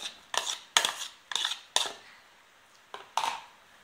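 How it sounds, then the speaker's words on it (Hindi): Chopped cucumber pieces dropped into a serving bowl for a vegetable salad, giving about seven sharp, close clinks and taps in uneven bursts with short gaps between them. "अब अलग से एक बर्तन को लीजिए और ये कटे हुए खीरे को डालिए।"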